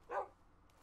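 Dog barking from the Minecraft video game: a single short bark, faint and alone, fading quickly.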